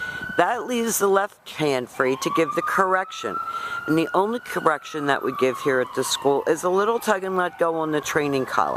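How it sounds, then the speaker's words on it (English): A siren wails outside, a long gliding tone rising and falling beneath a man steadily explaining how to hold a 6-foot web training leash and collar during a dog training lesson at a school. "Excuse the sirens, oh my goodness."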